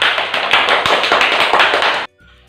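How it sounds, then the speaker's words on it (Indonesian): Classroom of schoolchildren clapping for two students, a dense burst of many hands applauding loudly and steadily for about two seconds before stopping abruptly. "Berikan tepuk tangan untuk mereka."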